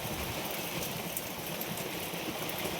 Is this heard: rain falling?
yes